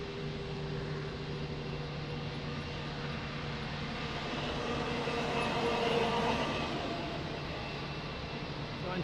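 A large airliner departing from Lisbon Airport, its engines producing a steady broadband roar that slowly swells louder toward the middle before easing slightly, heard from a distance with no talk.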